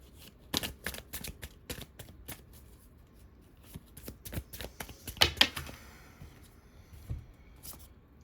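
Tarot cards being shuffled by hand in a quiet room, with repeated soft riffling and snapping bursts in an irregular rhythm, close and fairly faint.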